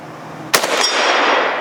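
A single sharp rifle shot from an American-made AK hitting a steel plate, a loud crack followed by a bright metallic ring that lingers and fades, with no talk.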